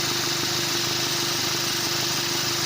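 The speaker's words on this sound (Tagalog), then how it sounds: "Yan, gumagana na yung compressor." Ford Territory idling with its air-conditioning compressor engaged, a steady loud engine drone with a constant hum and faint rhythmic pulsing throughout, no talk.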